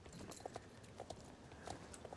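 Horse hooves clip-clop in the Star Stable video game, a faint, steady walking rhythm of paired hoof taps over a soft background hiss.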